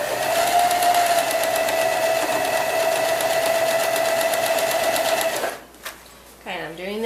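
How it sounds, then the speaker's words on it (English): A sewing machine runs steadily for about five seconds, stitching pinwheel quilt block pieces, a loud continuous whirring hum that stops abruptly, followed by faint handling noises. "So now I'm going to sew these."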